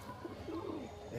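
A loft pigeon coos softly and continuously at close range over a short stretch, a low throaty murmur held up in a person's hands.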